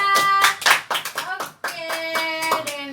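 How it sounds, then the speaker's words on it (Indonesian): A class of fourth-grade pupils claps together at the end of a lesson, several bursts of close, bright hand claps with pauses between them, with a voice talking over the clapping. "tepuk tangan untuk kita semua."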